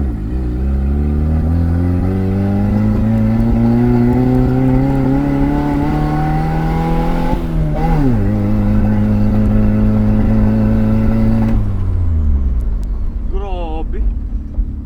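A misfiring 1989 Toyota Corolla small-body engine revs loud and close, its pitch climbing steadily, dipping briefly, then holding high before dropping back toward idle, with rough, uneven running throughout.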